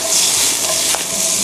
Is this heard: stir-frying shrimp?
yes